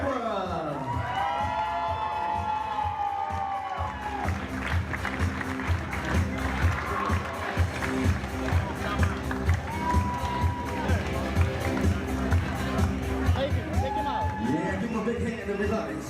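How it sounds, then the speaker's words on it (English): Wedding guests applaud and cheer at a reception as the couple's family members are introduced, with steady crowd clapping and whoops running loud throughout, overlapping with an announcer's voice and scattered shouts. "keep that applause coming for our groom's brother and our bride's father, Kelly and Frank"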